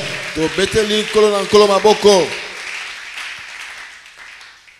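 A church congregation claps and chants praise to the Lord; rhythmic voiced chanting rises over clapping, then the clapping carries on alone and fades.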